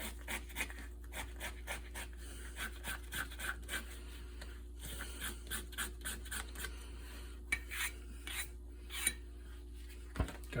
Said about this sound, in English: if you have a paring knife with a curved blade, you can do a French style